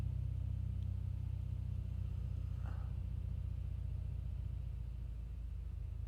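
A Beechcraft Bonanza piston engine runs at a steady 1700 RPM in a Prepar3D v4.5 flight simulator, a continuous low droning rumble with no change in pitch.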